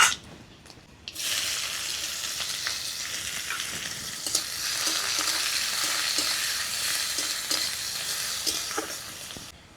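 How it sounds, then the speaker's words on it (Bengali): Bengali five-spice seeds frying in hot oil, a bright steady sizzle that starts abruptly and continues with faint stirring and crackles. "ফোড়নটা একটু ভাজা ভাজা হয়ে গেলেই পেঁয়াজ কুচি দিয়ে দিব।"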